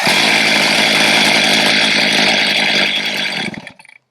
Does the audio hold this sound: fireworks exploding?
no